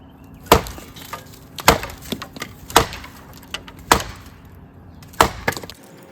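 A blade carves coarse oak shavings and feathers from a stick, giving five crisp woody scraping strokes at a roughly regular pace, close and clear, with faint lighter scrapes in between.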